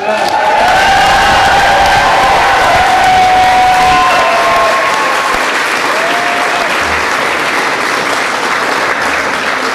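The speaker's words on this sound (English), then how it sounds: "You deserve a round of applause." A large crowd at the governor's election-night rally after the Wisconsin recall primary roars with sustained applause and cheering, loud and continuous, with shouted voices rising above the clapping.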